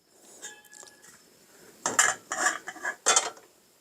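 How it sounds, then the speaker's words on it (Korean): A metal pan knocks and clinks as it is set down on a gas stove, several sharp bright impacts in quick succession after softer handling sounds. "팬을 올려놓고"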